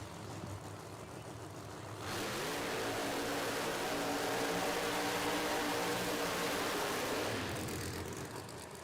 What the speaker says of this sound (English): 2019 Corvette. What a heck of a race car.